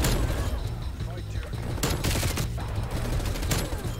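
FARA 83 rifle fire in a first-person shooter: rapid bursts of close, loud gunshots crackle over continuous game noise, with several sharp volleys spread across the moment.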